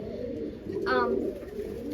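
A classical frill pigeon at a bird show gives a brief soft coo, heard close and low beneath the murmur of a crowded hall.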